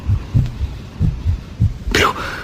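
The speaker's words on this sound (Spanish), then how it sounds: "Pero los latidos se oían cada vez más fuertes, más fuertes." A heartbeat effect in a Spanish audiobook of Poe's The Tell-Tale Heart gives loud, low, steady paired thumps repeating evenly, and a voice breaks in briefly near the end.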